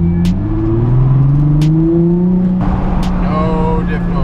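A car with a welded differential, a 2004 manual, accelerates close by, the engine note rising and falling through gear changes with a steady whir beneath, and brief ticks and clunks along the way.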